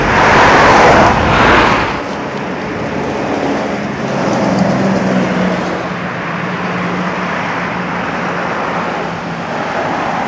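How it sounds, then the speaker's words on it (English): Road traffic with lorries passing in Dove Holes, Derbyshire, in December: a loud, close vehicle roars by at the start, then a continuous rumble of engines and tyres carries on steadily. "Traffic building up again."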